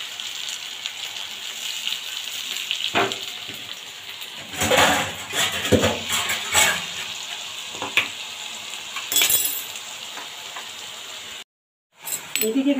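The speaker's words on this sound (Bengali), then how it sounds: "এটাকে খুব ভালো করে কষতে থাকবো তেলের সাথে।" Onion, ginger, garlic and tomato paste sizzling and frying in hot oil, with steady broadband crackle, scattered spoon clinks and stirring scrapes, and a brief cutout near the end.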